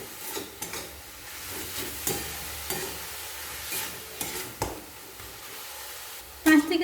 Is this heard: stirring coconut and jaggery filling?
yes